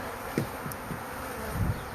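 A swarm of bees drones in a low, steady murmur, with a few individual bees buzzing briefly nearer at scattered moments.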